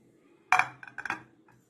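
A glass microwave turntable plate, reused as a charger plate on a set table, knocks and clinks against hard surfaces in a few sharp, close contacts over about a second.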